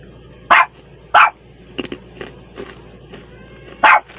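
A dog barks three times, with loud, sharp barks spaced irregularly and fainter household knocks and rustles between them.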